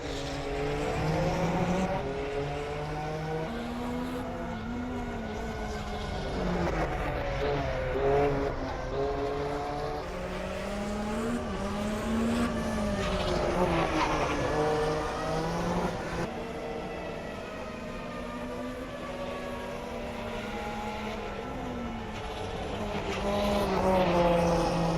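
Porsche 962C Group C race car on an outlap around Spa in a racing sim, its engine droning continuously with rising and falling pitch through gear changes and corners, loud and close with no talk.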